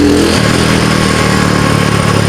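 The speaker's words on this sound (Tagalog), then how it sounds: "Yung carburetor na pinalit dito galing kay Budol Works, kay Jun Arendia." Rusi Gamma 200 motorcycle engine idling steadily after a carburetor replacement, a loud, continuous low rumble close by with no talk.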